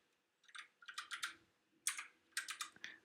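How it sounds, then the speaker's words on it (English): A password is typed on a computer keyboard in short bursts of crisp key clicks, separated by brief pauses, close and fairly quiet with no voices. "So we would set the password simply by typing it in."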